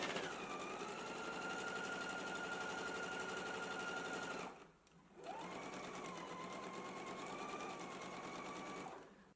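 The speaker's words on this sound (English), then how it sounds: "we can go ahead and stitch it using a 5/8 of an inch seam allowance." A sewing machine runs steadily, stitching a 5/8-inch seam joining a garment's side front to its front, with a brief pause midway before the motor whirs up again and continues close and loud.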